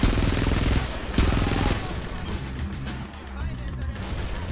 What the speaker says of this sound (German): Ich werde unter Beschuss genommen.